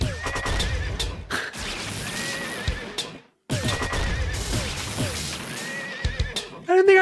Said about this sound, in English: I don't think I realized there was a horse noise in GBG.